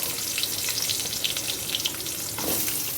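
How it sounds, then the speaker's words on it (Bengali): Cut potatoes frying in hot oil in a kadai, a loud, steady sizzle and crackle close up, with a brief stirring scrape near the end. "আলুগুলোকে কড়াই তেলের মধ্যে দিয়ে দেবো।"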